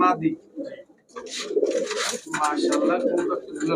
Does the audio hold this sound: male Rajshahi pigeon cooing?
yes